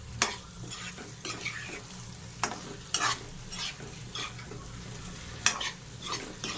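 Veg manchurian fries in a pan with a soft, continuous sizzle, and scraping stirs sound at irregular intervals. The frying is fairly quiet and close.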